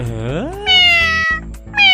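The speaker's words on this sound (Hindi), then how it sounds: "अरे ये भिखमंगी बिल्ली कहाँ से आ गई, सारा मजा खराब कर दिया मेरा।" Cartoon cat meowing in a Hindi animated kids' show, two loud, close, drawn-out whining meows in a row, the first rising in pitch, heard alone.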